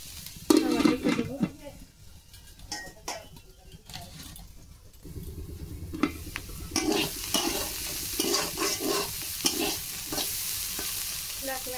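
Vegetables frying in a pan while being stirred, with repeated scraping and clattering strokes over a continuous sizzle that swells in the second half.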